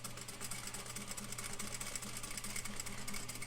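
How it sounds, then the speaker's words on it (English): A sewing machine runs continuously at a steady, even hum and rattle while back-stitching a flat felled seam, faint but close, with no talk. "I'm going to back stitch first. Just follow that line."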